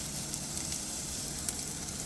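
Potatoes frying and searing in a pan at a car camping site: a dense, continuous close sizzle and crackle with small pops, steady throughout and with no talking.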